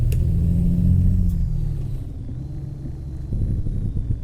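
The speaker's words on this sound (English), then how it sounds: "That engine is very loud" Loud, steady rumble of a Kenworth W990 truck engine in American Truck Simulator, a deep low drone that eases slightly midway and then swells again as the truck drives on, with no talking over it.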